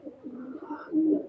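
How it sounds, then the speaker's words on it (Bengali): A Pakistani highflyer pigeon at a loft in Khulna gives a soft, throaty coo that swells into a louder rolling note at the end. It is close and alone, with no voices. "কামাগার রানিং মায়া কবুতর"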